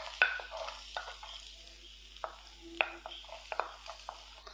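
A big chopped onion frying in a pan for leftover idli masala: a low sizzle under sharp, intermittent scrapes and taps of stirring, close and fairly quiet, with no talk.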